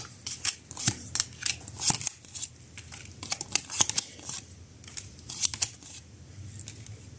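Tarot cards are shuffled close up in quick, crisp riffling bursts, a run of papery flicks and slaps spread across several seconds at a quiet level, with no speech.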